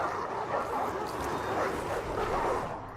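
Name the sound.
war dogs attacking in Total War Arena video game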